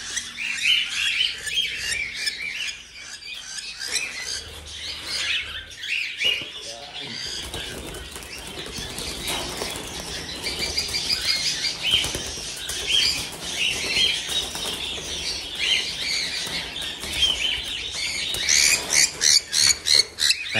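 Emerald doves flutter and flap inside a cage, with bursts of wingbeats and scuffling alongside sharp squawks and chirps over about twenty seconds, and a person speaking now and then.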